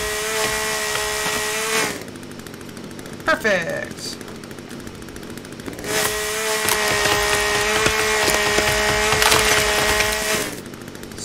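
A chainsaw cuts through wood in The Forest, a survival game, with loud sustained engine roar in two long bursts separated by a short quieter gap and a brief sharp sound; a voice speaks briefly.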